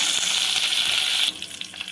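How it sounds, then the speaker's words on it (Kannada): Curry leaves, dried red chillies and fresh coriander sizzle loudly as they hit hot oil for a tempering, a bright crackling burst that drops sharply to a softer spatter about halfway through. "ಕರಿಬೇವು ಒಣ ಮೆಣಸಿನಕಾಯಿ ಇಲ್ಲಿ ಒಗ್ಗರಣೆ ಒಳಗೂ ಸ್ವಲ್ಪ ಕೊತ್ತಂಬರಿ ಸೊಪ್ಪು ಹಾಕೊಳತ್ತೀವಿ"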